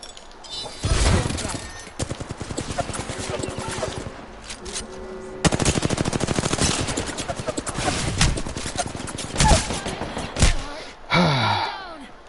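Dense, rapid bursts of gunfire from Apex Legends season 11 fill the whole stretch, loud and near, with brief lulls between volleys and a voice talking over it.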